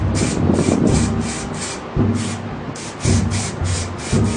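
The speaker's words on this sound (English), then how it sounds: "This is why you don't spray unprotected styrofoam normally, or polystyrene, because it'll melt like this" An almost empty spray paint can hisses onto styrofoam in repeated short bursts with a steady rhythm, loud and close. Low scuffing handling noise sits beneath the spray.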